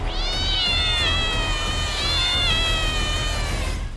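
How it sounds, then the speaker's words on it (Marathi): Several cats meow and caterwaul loudly and continuously over a steady background hum, with long wavering cries overlapping, from a flat in Pune's Hadapsar area housing hundreds of cats. "रात्री अपरात्री मांजरांचा येणारे आवाज"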